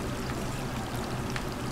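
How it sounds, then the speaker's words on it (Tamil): Water pouring in Resident Evil 3 Remake, a steady rushing broadband wash with no distinct events, continuous and moderately loud over the brief stretch, without voices. "தண்ணி விழுவுது."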